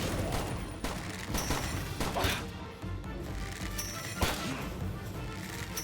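Shotgun blasts in Palworld: several loud, sharp reports spaced a second or so apart, over a busy game background.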